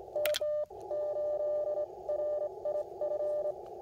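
Morse code question mark sent on an Icom IC-705 radio: a clear, steady CW sidetone tone keys out short and long beeps, preceded by a brief burst of higher tones, with no talk.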